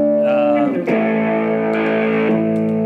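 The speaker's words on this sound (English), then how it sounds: "great range of dirty tones, you know, sort of distorted, coming through these humbuckers" Distorted electric guitar through humbucker pickups and a dirty amp channel, chords ringing out with a gritty, saturated tone, a strummed chord changing partway through and sustaining loudly.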